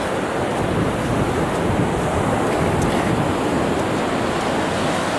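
Ocean surf at a low beach on the Ecuadorian coast near Montanita, heard as a steady broadband wash of waves with heavy wind buffeting the microphone throughout, loud and continuous.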